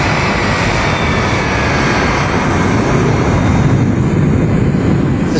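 A Boeing 767 jet airliner on final approach gives a steady, loud broadband roar that holds evenly throughout, with no voices present.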